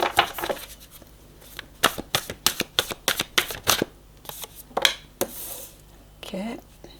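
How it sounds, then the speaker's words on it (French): Tarot cards shuffled by hand for a relationship reading: a rapid series of crisp, close papery riffles and slaps in uneven bursts, with a short voiced murmur near the end. "Je n'ai même pas battu les cartes."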